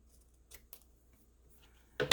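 Scissors cut through craft packaging: two faint, quick snips followed by a louder, closer cut at the end, with near silence between them.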